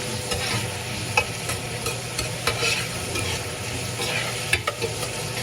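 Onion sautéing in a pan with garlic for a chicken sinigang sour soup, a steady close sizzle broken by a few sharp spatula knocks and stirring scrapes, with no talking.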